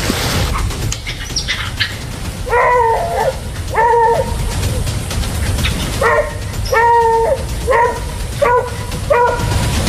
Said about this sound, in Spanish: Se escuchan unos perros.